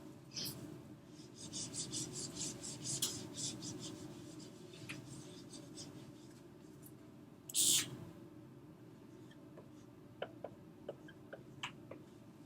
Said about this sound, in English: So write that out while I write it up here.